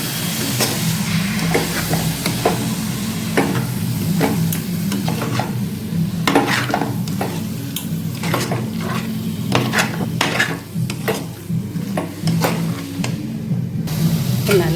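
Mutton biryani masala being stirred and mixed with yogurt in a pot, with steady scraping and stirring strokes, a soft sizzle underneath and occasional clinks of a spoon against the vessel.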